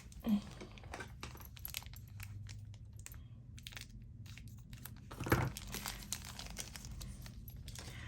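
Fountain pen packaging is cut open nearby with scattered soft crinkles and plastic clicks, including a couple of sharper snips and rustles, all faint and without talk.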